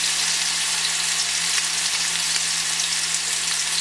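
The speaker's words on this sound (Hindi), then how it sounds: "मीडियम फ्लेम पे रखें और इसको अच्छे से यहाँ पर फ्राई हो जाने दें" Flattened chicken pieces fry on a grill pan over a medium flame, producing a loud, steady hiss of sizzling oil that runs unbroken throughout, with no voices.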